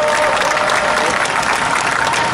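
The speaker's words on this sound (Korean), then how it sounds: "다시 한번 박수 부탁드립니다." Loud, dense applause from an audience at an outdoor memorial rally marking 500 days since the Sewol ferry disaster, sustained and even for a couple of seconds.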